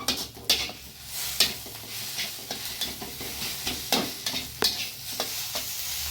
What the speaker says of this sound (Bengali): ডিমটা দিয়ে একটুখানি ভেজে নেবো আগে